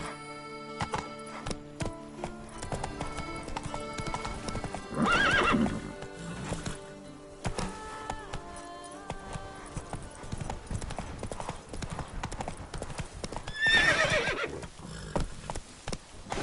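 Horse hooves clip-clopping at a run in The Witcher 3, with two loud whinnies bursting out partway through, over continuous game music and ambient noise.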